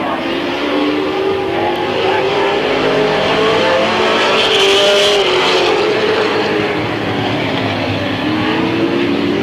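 Race cars roar around a speedway oval at Midvale Speedway, a continuous loud engine drone with passing surges, heard from trackside in 1995.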